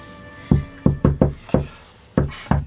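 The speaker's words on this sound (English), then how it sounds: "As you knock on the door" Sharp knuckle knocks on a door, seven raps in two quick groups with a short pause between, close and loud against a quiet room.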